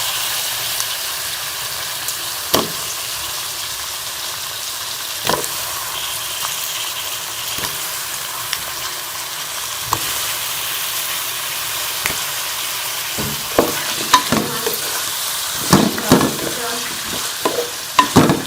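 Potato slices and green chillies fry in a pan, with a continuous sizzle and repeated scraping and stirring strokes that come faster and busier toward the end. Nobody speaks.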